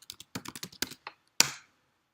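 Quick clusters of keystrokes clatter on a computer keyboard as a Maven build command is typed, ending with one sharper key strike, close and clear with no voices.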